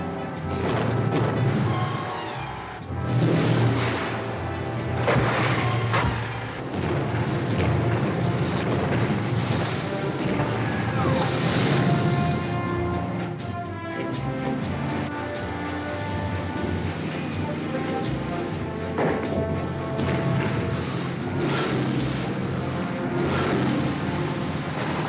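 Explosions and roaring boat engines from the boat chase in the 1979 James Bond film Moonraker, a dense, continuous barrage of blasts and rumbling motors with crashing impacts throughout.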